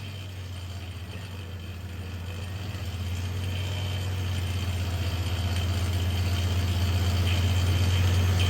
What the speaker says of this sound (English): that belt's making noise